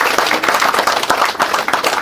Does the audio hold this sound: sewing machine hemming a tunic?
no